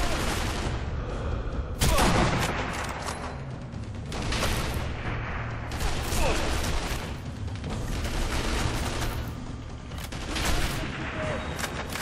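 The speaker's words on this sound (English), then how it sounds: "So many people shooting at me right now." Enemy gunfire in the World War II shooter Sniper Elite V2, during a Kill Hitler mission: repeated shots and bursts from several directions, with one loud near blast, over a steady rumbling battle background.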